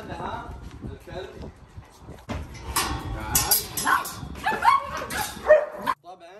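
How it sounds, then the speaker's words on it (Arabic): Several dogs barking loudly and repeatedly at close range, sharp overlapping yips and barks coming in bursts while a person talks throughout, in a setting where a lion and a dog are being groomed together in one cage. "الله يعيننا على ازعاج الكلاب"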